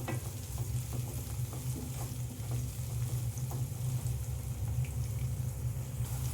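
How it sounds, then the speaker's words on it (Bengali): Chopped onion and tomato fry for a mung dal tadka, a loud, steady sizzle close by with continuous stirring noises running underneath. "পেঁয়াজের সাথে টমেটোটা ভালো করে ভেজে নেব"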